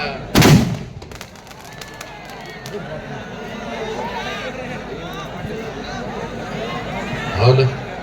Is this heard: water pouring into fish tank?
no